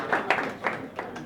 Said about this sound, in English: Please clap for the lady in red.